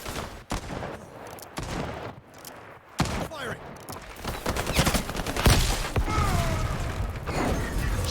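Loud, continuous gunfire from the video game Highguard, with dense bursts and impacts layered with game effects, plus a talking voice mixed in.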